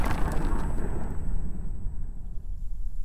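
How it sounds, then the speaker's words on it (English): Close-range explosion built for a Unity and Wwise sound design demo: a loud, dense low rumble with debris scatter and a high ringing tinnitus tone, fading slowly but staying heavy throughout. "The high end of the explosion is more pronounced, the debris scatter, and the tinnitus to simulate the sheer volume of the sound."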